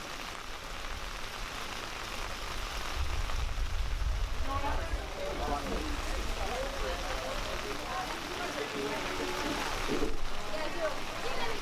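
Light rain patters on a surface outdoors with a soft, steady hiss that swells slightly around the middle and again near the end, with no clear voices.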